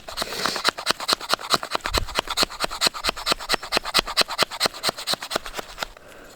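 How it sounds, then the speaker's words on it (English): Wood is scraped into fine tinder shavings for a ferro rod fire at a snowy winter camp: quick, rhythmic, raspy strokes, about four per second, close and loud, with no talk. "So scrape till you get plenty much of that, and then you can start to throw some sparks."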